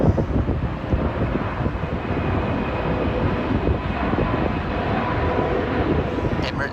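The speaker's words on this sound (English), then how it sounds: "Emirates plane coming into land." An Emirates airliner coming in to land near Lisbon airport makes a steady, loud, broad roar that holds throughout, mixed with wind buffeting the microphone.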